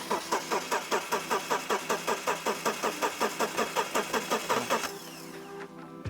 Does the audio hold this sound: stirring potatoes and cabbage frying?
no